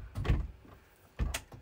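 A door closing and catching a yukata, heard as two soft thuds about a second apart, each with a faint rustle and click, close by and quiet, with no talk.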